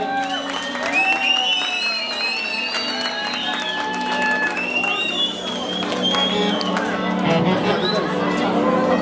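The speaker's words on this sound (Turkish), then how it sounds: "Pasta geldi. Alkışlar olsun." Wedding guests at a Turkmen toy in Lebap applaud as the cake is brought in: steady, moderately loud clapping blended with crowd chatter, with a voice and tonal, music-like sounds running over it throughout.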